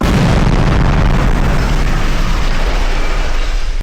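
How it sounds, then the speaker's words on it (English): Detonator-triggered blast in an underground mine dug for a bunker basement: a heavy, loud boom that erupts at once and rumbles on with a long roaring tail that fades slightly toward the end; no talk. "That was a bigger explosion than I thought it was going to be."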